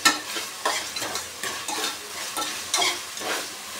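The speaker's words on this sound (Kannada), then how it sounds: "ಈಗ ಸ್ವಲ್ಪ ಎಲ್ಲ ಫ್ರೈ ಆಗಬೇಕು." Onions and rice sizzle in a pan while a spoon stirs them in repeated scraping strokes, loud and close, with no voices.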